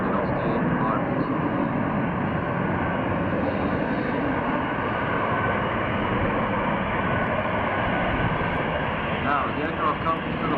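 Lockheed Martin F-35B Lightning II stealth fighter jet engine while the aircraft hovers, a loud, steady, broadband roar that stays constant for the whole stretch without a break.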